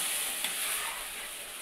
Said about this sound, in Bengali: তো মশলাটা কষাকষি হচ্ছে, আলুটা দিয়ে দিল মা।